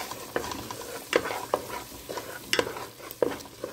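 Tomato sauce with black pepper and salt frying and being stirred in a pan on the stove for Upper Egyptian kishk, with sharp scraping strokes of the spoon at irregular intervals over a steady low sizzle, close up.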